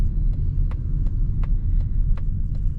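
A 2026 Mazda CX-30 Aire Edition accelerates, heard from inside as a steady low engine rumble and road drone, with faint regular ticks over it.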